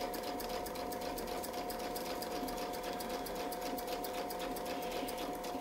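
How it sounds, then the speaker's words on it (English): Sewing machine stitching along a quilting ruler template, a quiet, even, rapid needle chatter with a steady motor hum, heard continuously and close. "And now we're going to sew back out again."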